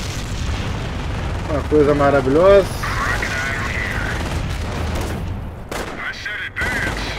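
Gunfire and explosions from the World War II strategy game Company of Heroes, a sustained rumbling battle bed with bursts of shooting, heard under a voice speaking throughout.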